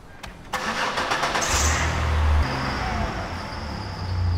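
A Chevy Impala engine cranks briefly, fires up and settles into a steady mid-pitched running note, heard up close.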